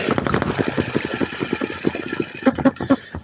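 A hit and miss governor model engine fires up once the ignition is switched on, chuffing in a rapid uneven string of close, loud pops and knocks that grow punchier toward the end.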